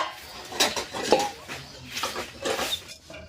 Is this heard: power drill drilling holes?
no